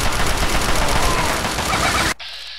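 Dense, sustained gunfire in the video game Fallout 3, rapid overlapping shots forming a loud continuous barrage that cuts off abruptly near the end, leaving quieter background ambience.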